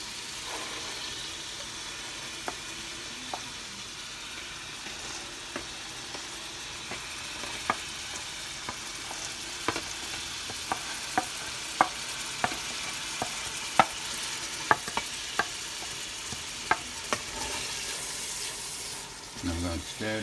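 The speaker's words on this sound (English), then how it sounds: "let it turn till it gets sizzling a little bit" Carrots and celery sizzling in a pan, a steady soft frying hiss with faint scattered clicks and scrapes of stirring, quiet and continuous.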